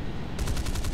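Burst of rapid gunfire striking an armored vehicle in War Thunder, a dense machine-gun rattle that kicks in abruptly and repeats in quick pulses, loud and close with no talking.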